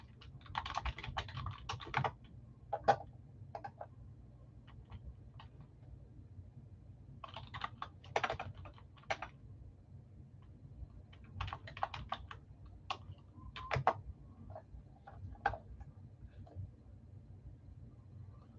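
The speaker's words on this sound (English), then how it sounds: "I was typing Larry." Computer keyboard typing in short bursts of rapid clicks separated by pauses, fairly close and quiet over a low steady background hum, during a live sports card break.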